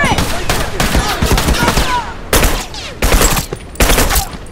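Loud bursts of turret gunfire crack out in the multiplayer video game Factions, several rapid fusillades close by with short gaps between them, and no voices over them.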